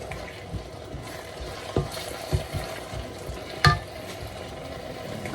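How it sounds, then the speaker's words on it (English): Chicken and vegetables sizzle steadily in a pot as liquid tomatoes are stirred in, with a few clinks and scrapes of the spoon against the pot. "Give it a beautiful stir."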